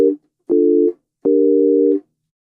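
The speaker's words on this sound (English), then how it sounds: "If we play a few keys on our keyboard," Basic synthesizer tones from HALion played on a keyboard: three separate steady held notes, each starting with a click, the last one longest, loud and clean against silence.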